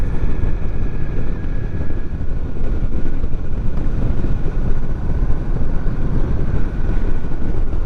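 Indian Scout Rogue Sixty cruiser motorcycle riding in fifth gear at low revs around forty miles an hour, a steady loud engine rumble blended with heavy wind rush, continuous and unbroken.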